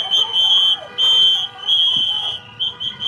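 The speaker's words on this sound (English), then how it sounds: "Who's blowing the whistles?" Shrill police-style whistles blown repeatedly at a street protest, loud and close, in several long blasts with short gaps between them, with no talk over them.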